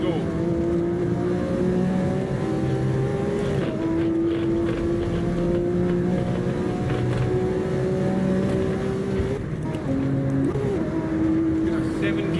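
A hypercar engine in the racing game Assetto Corsa screams at high revs through fast gear changes, a loud, steady drone with rising and falling pitch, with a voice talking over it.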